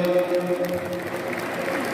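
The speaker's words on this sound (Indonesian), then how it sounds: "tepuk tangan buat beliau" A crowd claps for a couple of seconds at an Indonesian party gathering, with the applause mixed under a voice and some background tones.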